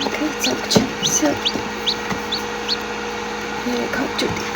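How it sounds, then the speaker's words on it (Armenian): Hens and newly hatched chicks cluck and cheep close by in a farmyard coop, with short chirps repeating over a steady low hum. "Երեք հատ ճուտիկ։"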